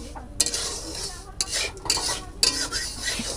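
Damp salt dry-roasting in a pan on a gas stove, stirred with a metal utensil that scrapes in sharp bursts over a faint sizzle, close and fairly quiet.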